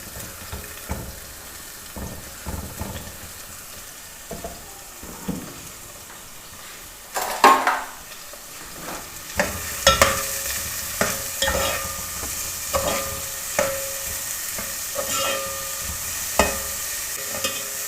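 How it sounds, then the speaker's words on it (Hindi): Three medium chopped onions fry over medium heat in a pan for baingan masala, with a steady sizzle and repeated stirring scrapes and knocks throughout. "ये मैंने 3 अदद मीडियम प्याज लिए हैं जो मैंने चॉप कर लिए हैं, ये इसमें जाएंगे"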